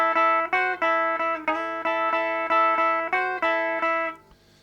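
Rockabilly electric guitar playing the opening two bars of a solo in A, a run of repeated plucked notes and double-stops in a loose shuffle rhythm, clean and close, ending on a ringing decay with no talking.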